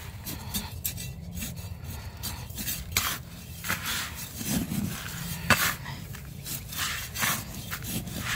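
Rose fertilizer mixed with Azomite powder is stirred and scraped in a container, a busy run of close rasping, rubbing and clinking strokes with no talk.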